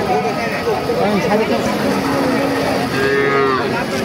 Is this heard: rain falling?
no